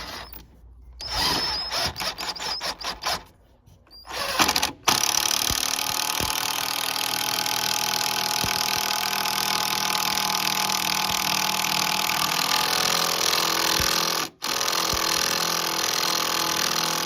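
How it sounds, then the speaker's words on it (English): A power drill drives long screws into a wooden garden planter, its motor whirring in short bursts at first, then running in a long steady drone with brief pauses, close and loud. "And then we'll screw the long screws into there."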